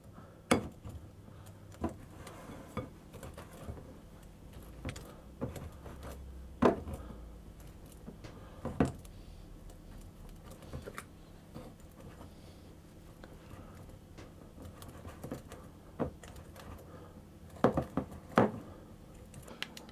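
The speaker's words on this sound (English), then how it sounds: "which is my pastry cutter. I'm just going to cut that in until the mixture resembles a sort of coarse breadcrumb" A pastry cutter working butter into flour for bacon and cheese scones, soft scattered scraping and occasional sharper knocks against the bowl, spread irregularly over a quiet background without speech.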